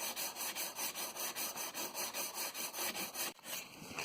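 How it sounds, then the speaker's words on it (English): Fiberglass compound being hand-sanded where it fills the gap around a van windscreen: steady, rhythmic back-and-forth scraping strokes, close and continuous, with a brief knock near the end. "we've filled the gap on the windscreen with fiberglass compound, and now Heather's sanding it"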